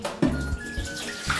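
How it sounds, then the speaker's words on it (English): Warm water pours out of a jar in a short, splashing stream, close and fairly quiet. "I'm just going to pour out the water."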